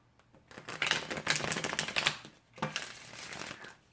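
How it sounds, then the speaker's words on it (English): A deck of tarot cards is shuffled close by in two bursts of rapid, rattling card flutter, with a short pause between them. "while I shuffle the deck out and get a little glimpse of your general energy"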